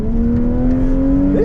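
A Lexus GS300 engine pulls steadily under acceleration on a race track, a loud, continuous drone climbing gently in pitch, with a brief shift in tone near the end.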